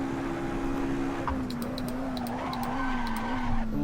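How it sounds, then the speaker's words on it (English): A race car's tyres lock up and skid under braking into a corner in Assetto Corsa, with the Formula Agile mod. A short squeal rises over a steady engine drone. "massive lockup coming into turn 1"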